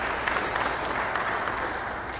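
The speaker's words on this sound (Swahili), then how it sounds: "tuwapigie makofi." A congregation at a Monday Mass in the Sacred Heart of Jesus Cathedral breaks into dense, sustained applause, close and loud for the whole short stretch.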